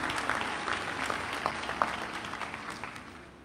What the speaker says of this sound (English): Please, yes, a round of applause for Katie Jackson Booker and her family.